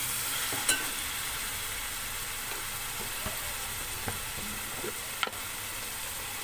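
Mutton frying in a pan with turmeric, chili and coriander powder, a steady low sizzle and hiss with occasional soft scrapes and clicks of a spoon against the pan.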